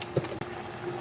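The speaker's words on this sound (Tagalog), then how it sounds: "Lagyan po natin ng kunting suka." A splash of vinegar poured into ginataang tilapia, tilapia simmered in coconut milk: a short, soft liquid trickle lasting about a second, close by and fairly quiet.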